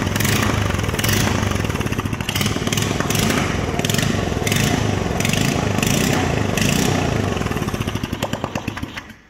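A small four-stroke Briggs engine on a kitty cat snowmobile, with no exhaust fitted, roars steadily with a harsh, unmuffled rattling sound, loud and close, then winds down at the end.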